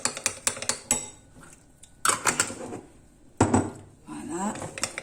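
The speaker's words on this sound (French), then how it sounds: "je mélange bien" Coconut butter being mixed in a bowl for a summer diet cake, heard as a run of close, sharp utensil clinks and scrapes against the dish, coming in clustered bursts with short pauses between.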